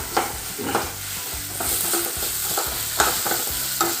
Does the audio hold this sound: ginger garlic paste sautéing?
yes